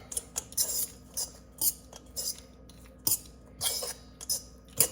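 Dill quinoa salad being mixed in a bowl, with repeated bright scraping and clinking of a utensil against the dish. The strokes come in an irregular rhythm, close, with no talking.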